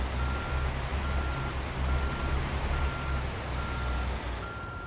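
Simulated truck backing a trailer in American Truck Simulator, with evenly spaced reversing beeps repeating over a constant low engine rumble, steady and continuous throughout.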